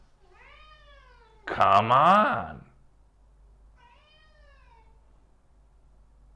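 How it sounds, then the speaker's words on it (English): A house cat meows several times: a thin, drawn-out mew, then a louder, longer cry, then another soft mew, with a brief spoken exclamation overlapping the loud call. "I have a cat."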